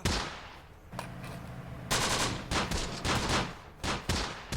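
Rapid machine gun bursts rattle in the Close Combat war game during an assault on an Italian desert stronghold, loud repeated volleys of automatic fire separated by short gaps.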